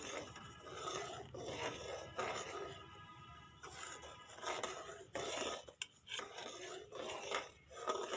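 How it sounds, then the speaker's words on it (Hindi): A spoon rasps and scrapes against a pot as semolina is stirred into milk for sagodana carrot kheer, in repeated uneven strokes with brief pauses, close and moderately loud. "चम्मच को अच्छे तरीके से साथ साथ हिलाते रहें।"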